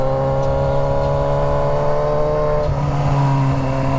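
A car engine holds a loud, steady drone in second gear while climbing a steep mountain road, its tone shifting slightly partway through, with no voices present.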